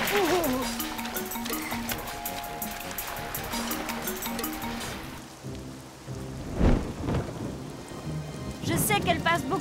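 Steady rain falls during a thunderstorm, with a rumble of thunder partway through and dense patter throughout, under a voice in a cartoon scene.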